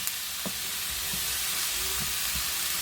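Onions fry in a pan with a constant hissing sizzle, joined by a few faint low knocks and scrapes of stirring; no voices.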